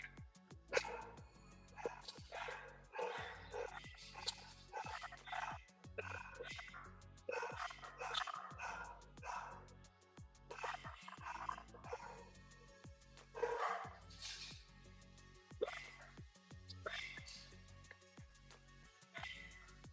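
Dogs barking in a home during a live trading session, a long stretch of repeated barks and yips in irregular bursts, moderately close, with a person talking at times.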